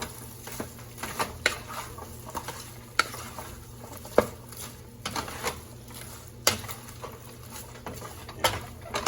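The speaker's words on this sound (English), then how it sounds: "I'm just gonna toss it in that butter as good as I can." Cabbage tossed in melted butter in a skillet, a steady soft sizzle and rustling stir with small scraping clicks of the utensil against the pan, close up and without talk.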